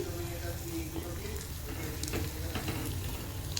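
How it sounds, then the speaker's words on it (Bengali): Rasa bora dumplings frying in hot oil, a steady dense sizzle with small crackles and faint clinks, close and continuous, with no talk. "তো দেখতেই পাচ্ছ সুন্দর করে লালচে করে ভেজে নিচ্ছি"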